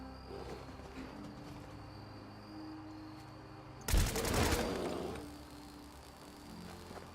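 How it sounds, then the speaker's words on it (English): A burst of gunfire in Fallout 4 Far Harbor, fired at bears: one loud, dense volley lasting about a second, over a quiet outdoor ambience with faint bird-like calls. "Shooting down bears, left, right, and center."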